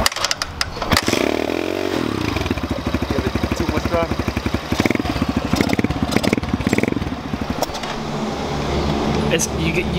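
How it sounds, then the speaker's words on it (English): An Apollo 250cc dirt bike engine catches after a kick start and keeps running, a loud close rapid pulsing putter with revs rising and dipping, and people talking over it. "You gotta let the engine heat up"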